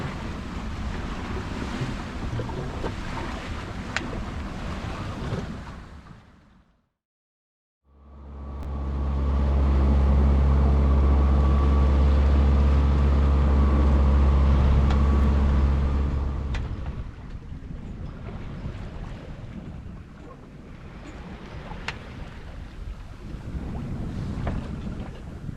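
A West Sail 32 sailboat under sail off Australia's east coast, with steady rushing wind and waves washing past the hull, loud and continuous, with a brief dropout partway through.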